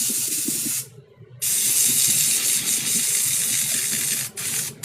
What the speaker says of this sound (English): I didn't start the steam up. Let's cut it off. It's out of water.